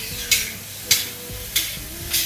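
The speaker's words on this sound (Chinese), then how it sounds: "豆角下锅" Green beans being stir-fried in a hot wok, with a steady sizzling hiss broken by four sharp bursts of louder spitting and tossing at roughly even intervals, close and alone with no voices.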